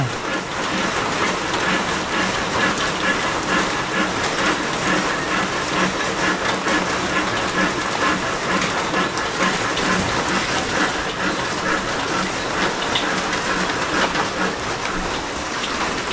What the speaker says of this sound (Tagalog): Hindi lumakas ang ulan